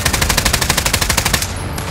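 Rapid automatic gunfire in Call of Duty Warzone, a fast even burst of about twenty loud, close shots over roughly a second and a half, then a brief ringing tail.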